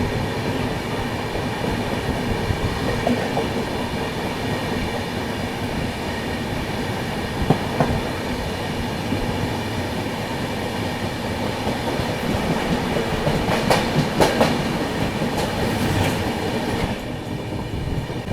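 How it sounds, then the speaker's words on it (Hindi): Kerala Express rolling in from Trivandrum, a steady rumble of rail cars with rhythmic wheel clatter and a few sharp metallic squeals near the end, heard up close and continuous throughout. "त्रिवेंद्रम से आ रही है गाड़ी।"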